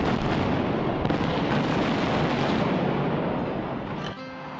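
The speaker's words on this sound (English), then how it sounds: "what can I do with so many free fireworks?" Fireworks explode in a dense, continuous barrage of loud crackling and booming bursts that roar steadily before tapering off at the end.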